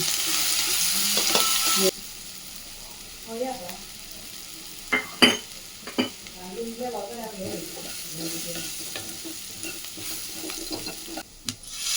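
Curry leaves and homemade spice powder hit a pan of frying onions for a village-style mixed vegetable bassaru, giving a steady sizzle with scattered scrapes and clinks from a spoon stirring through the middle.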